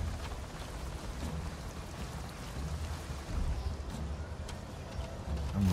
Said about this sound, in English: No, that was the storm.